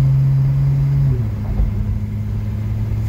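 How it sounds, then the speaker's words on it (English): A Chrysler Slant Six car pulls out onto a highway at light quarter throttle, its steady mid-low engine drone close and continuous, with the pitch stepping down partway through as the load shifts. "Pulling out onto the 72. And, you know, just a little quarter throttle."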